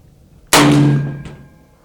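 Single sharp gunshot from a Bighorn Armory .50 caliber rifle, a loud sudden blast with a ringing metallic tail that decays over about a second, in an otherwise quiet outdoor setting.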